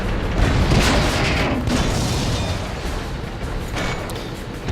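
A tank exploding in the World of Tanks video game, a heavy booming blast that rumbles and fades, with a second, weaker burst of noise following.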